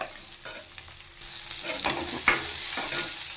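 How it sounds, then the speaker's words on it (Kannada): Onions and ginger fry in a pan, a soft steady sizzle that swells louder partway through, with stirring scrapes on top and no talking. "ಈರುಳ್ಳಿ ಚೆನ್ನಾಗಿ ಗೋಲ್ಡನ್ ಕಲರ್ ಬರೋವರೆಗೂ ಫ್ರೈ ಮಾಡ್ಕೋಬೇಕು"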